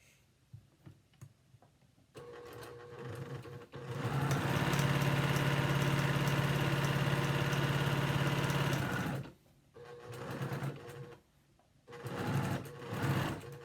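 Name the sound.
regular sewing machine stitching half square triangles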